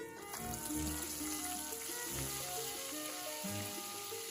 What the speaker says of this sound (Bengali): এবার এতে আমি পেঁয়াজ বাটাটা দিয়ে দিলাম।